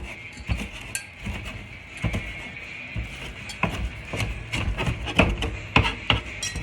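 A knife roughly chopping hot chili peppers on a board while cooking Senegalese-style fried chicken: close, sharp chopping strikes repeating in an uneven rhythm.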